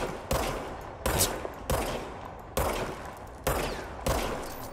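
Bursts of automatic gunfire in the video game Control, six loud rapid volleys spaced about a second apart, close and dominant with no talk over them.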